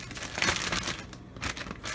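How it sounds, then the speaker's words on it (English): Chicken legs are shaken in Pillsbury all-purpose flour inside a plastic bag, giving close, loud crinkling and rustling bursts in an uneven rhythm. "I just put it inside a plastic bag like this and get them nice and seasoned in the flour"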